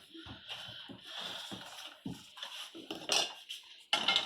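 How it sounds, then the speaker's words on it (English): Oriental noodles get tossed and mixed in a bowl, a quiet run of soft clatters and utensil knocks against dishware, with a couple of sharper clinks near the end and no speech. "So we'll go ahead and mix everything together now."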